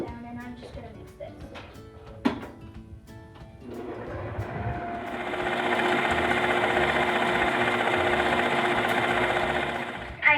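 Brownie batter of butter and dry ingredients mixed by an electric mixer, a steady motor whir that starts after a few clunks and holds for several seconds.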